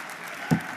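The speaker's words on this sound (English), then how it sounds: "Warm applause for any decent score that's posted." A darts crowd at the Saudi Arabia Darts Masters breaks into warm applause, a steady wash of clapping with a single louder thump near the middle, heard fairly close.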